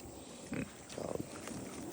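Pigs on a small farm give a few close grunts and short snorting oinks, fairly quiet, scattered over a couple of seconds against faint background noise.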